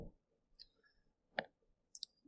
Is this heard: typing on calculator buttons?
yes